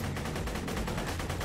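The Knuckle Dragger pistol fires rapidly in Borderlands 2, a steady, dense string of loud shots in an even, fast rhythm that continues unbroken throughout.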